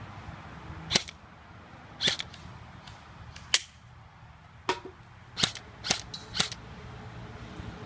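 Around nine faint, sharp pops come at uneven intervals as an air-powered rifle with a newly installed inner barrel is test-fired, each shot a brief isolated crack against a quiet background.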